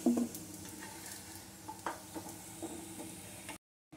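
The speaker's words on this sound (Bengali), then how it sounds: "আলুগুলো আমার এখন লাল লাল করে কড়া করে ভাজা হয়ে গেছে আমি এবারে এগুলো তুলে নিচ্ছি" Potatoes fry in mustard oil in a pan, a soft steady sizzle with a few stirring scrapes and clinks, then the sound cuts to silence near the end.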